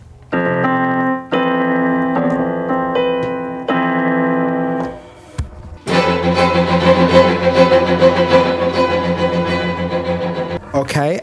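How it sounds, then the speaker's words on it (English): Solo piano plays the closing section of The Sun Also Rises, a classical string quartet piece: sustained chords struck one after another, then a denser, dissonant passage ringing out, close and fairly loud with no talking. "the ending section of The Sun Also Rises sounds like this on piano"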